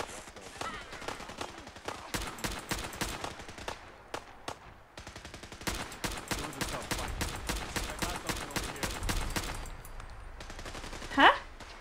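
Rapid automatic gunfire in Fallout 4, long sustained bursts of closely spaced shots, loud and near, continuing almost without a break across the clip, with a brief louder burst near the end.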